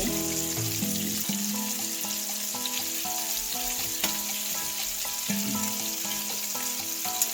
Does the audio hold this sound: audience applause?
no